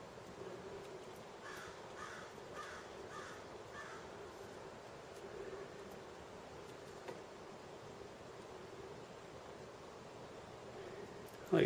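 Crows caw at a groundhog up in a tree outdoors, a series of harsh calls repeated in quick clusters early on, moderately distant over steady rustling background noise.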